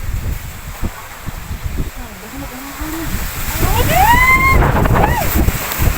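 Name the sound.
strong typhoon wind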